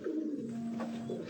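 A pigeon held in the hand gives a soft, close, low coo that lasts about a second, with faint handling rustle around it.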